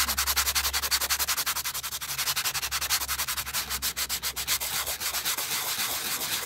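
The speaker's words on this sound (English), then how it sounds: "So using an old nail buff, holding it flat and flat," An old, worn nail buff is rubbed back and forth over metal tape on a notebook cover, making a fast, even rhythmic scratching that repeats many times per second, quiet and close.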